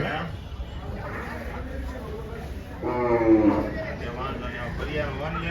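Jafarabadi buffaloes lowing amid a busy crowd at a cattle market, with a louder moo rising partway through over steady background chatter and livestock noise.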